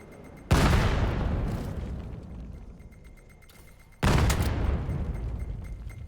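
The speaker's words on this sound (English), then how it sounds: "Nades thrown towards bunker." Two heavy grenade blasts erupt near a bunker in the VR shooter VAIL VR, each a sudden loud boom that rolls off slowly, spaced about three and a half seconds apart with no talk.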